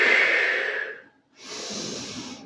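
Breathing during a Pilates exercise: one long audible exhale, a brief pause, then a steady inhale, close and airy with no other sound.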